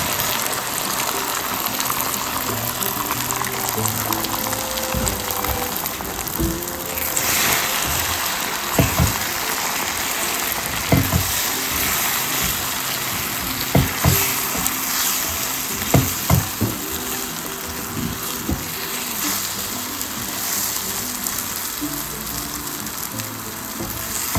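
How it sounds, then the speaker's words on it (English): Eggs poured over other ingredients scramble and sizzle in a pan at an outdoor backyard breakfast; a steady, loud frying hiss runs throughout, broken by occasional clinks and scrapes of a utensil against the pan. "we're gonna add the eggs to scramble, just right on top of everything"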